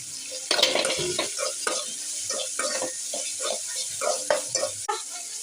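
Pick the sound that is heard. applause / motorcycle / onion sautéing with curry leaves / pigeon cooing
onion sautéing with curry leaves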